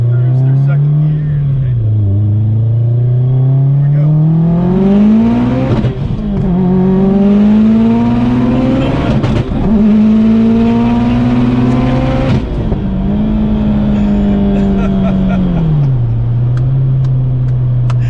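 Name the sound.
800HP Subaru STi accelerating through second gear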